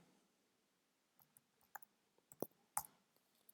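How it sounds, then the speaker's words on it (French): Password being typed on a computer keyboard, a sparse, irregular series of quiet key clicks, a few sharper taps among them, close but soft against near silence. "je tape le mot de passe que j'ai reçu"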